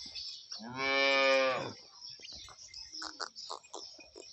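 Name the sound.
cow mooing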